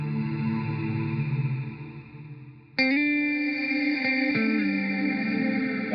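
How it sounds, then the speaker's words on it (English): A Leo synth strings plugin preset plays a lush, echoey sustained chord that fades, then a new brighter string chord enters abruptly and holds steady, thick with chorus and reverb, with no voices. "Leo synth strings."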